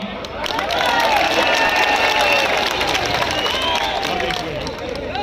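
A large crowd at a BJP political rally in Coimbatore cheers and claps loudly and steadily, with shouting voices and whistles rising over the clapping.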